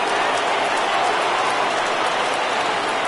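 A baseball crowd rises and cheers at a full 3-2 count, a loud, steady wash of noise from the stands that does not let up.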